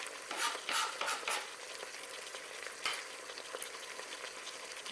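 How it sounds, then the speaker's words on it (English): Onions and oxtails fry in a pressure cooker with a soft, steady sizzle, broken by several brief scraping bursts as the pot is stirred. "So we're going to let those fry down for a second."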